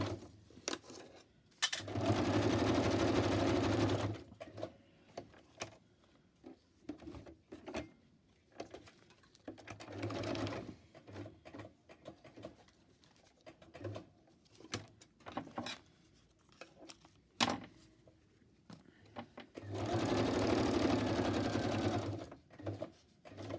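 A sewing machine zigzag stitching fabric scraps runs in three separate whirring bursts, each a few seconds long, with quiet gaps between them broken by small handling clicks.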